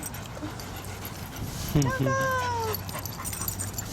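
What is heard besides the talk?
Basenji dog panting and whimpering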